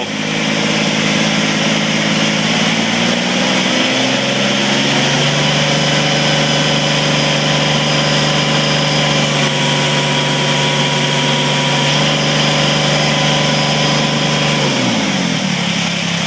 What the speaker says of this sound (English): All right, now I'm going to give it some RPMs.